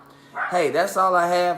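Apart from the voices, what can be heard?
dog barking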